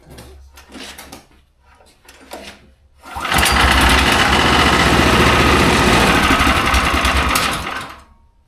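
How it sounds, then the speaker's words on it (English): A Mech Maxx sawmill's gasoline engine is pull-started: a few quiet scrapes and pulls, then the motor catches and runs loud and steady for about five seconds before cutting off. "put oil in the motor, fire it up, make sure it works"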